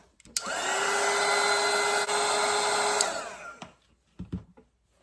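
A hair dryer blows over a watercolor painting with a steady, loud whine and rush of air for a few seconds, then cuts off, followed by a few faint knocks.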